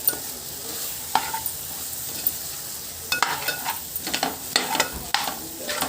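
Drumstick pieces fry in a pan with salt, chili powder and turmeric for a tomato curry, giving a steady close sizzle broken by sharp spoon scrapes and clicks, sparse at first and then coming in quick clusters.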